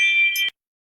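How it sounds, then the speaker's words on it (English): A Ring video doorbell chime rings once: a bright, sustained electronic ding lasting about half a second, then cutting off abruptly into silence, with a faint blip right at the end. "That sounded like my ring doorbell going off."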